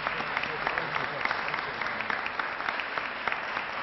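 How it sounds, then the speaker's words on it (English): Steady audience applause fills a hall after a congressional speaker's introduction, dense broadband clapping holding at an even level for several seconds with no voices over it. "please give him a round of applause"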